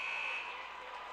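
Final buzzer sounding at the end of a high school basketball tournament game between Bloomfield and Hayti, a steady loud electronic tone lasting under half a second amid gym crowd noise.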